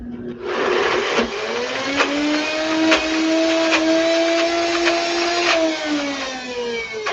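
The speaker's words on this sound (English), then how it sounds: "I like to use a NutriBullet, but certainly you could use a blender even, or a food processor to make this." A NutriBullet blends hummus in a steady, loud motor whine that runs the whole time, its pitch shifting slightly as the mixture loosens, with no talking.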